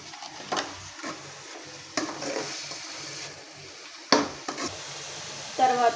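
Tomato curry sizzling softly in a pan while a spoon stirs it, giving intermittent scraping strokes over a low frying hiss, with a voice faintly in the background.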